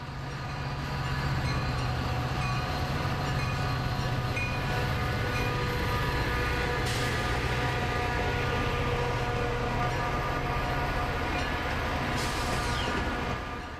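Metra diesel locomotives built in 1974, among the largest in the fleet at 3,200 horsepower, roll past with a steady, loud rumble and rail noise that holds throughout, and a sharp high burst cuts in twice partway through.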